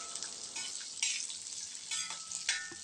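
Onion frying on a new iron dosa tawa over a medium flame is stirred and spread, a soft, quiet sizzle with a few scraping strokes of the spatula, heard close without voices.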